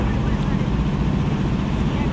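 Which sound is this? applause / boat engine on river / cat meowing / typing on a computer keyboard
boat engine on river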